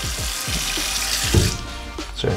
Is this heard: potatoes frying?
no